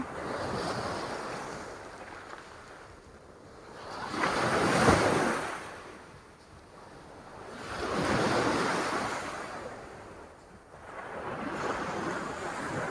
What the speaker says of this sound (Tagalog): Ang laki ng alon, ang lakas.